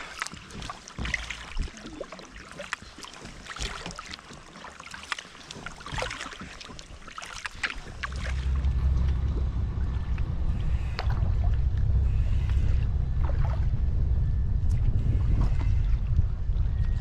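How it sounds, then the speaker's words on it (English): Kayak paddling into Tobermory Bay after crossing the Sound of Mull, with clicks and splashes of paddle strokes, then steady water rush and wind noise growing louder in the second half. "paddling into Tobermory Bay"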